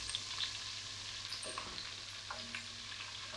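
Pieces of bone-in lamb shoulder brown in a pan with a soft, steady sizzle, faint and somewhat distant, with a few light scrapes as they are turned.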